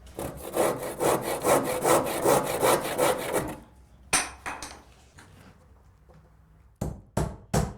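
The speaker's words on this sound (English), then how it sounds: "use a handsaw to trim off the face of that wedge" A handsaw cuts through the face of a timber wedge during framing repair, giving steady rasping back-and-forth strokes for several seconds, then stopping, followed by a few sharp knocks and handling sounds.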